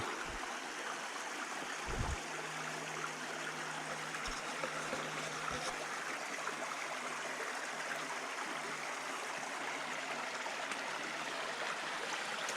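Steady, continuous rush of a stream flowing over mossy rocks, broadband and even throughout, with a few soft low thumps near the start.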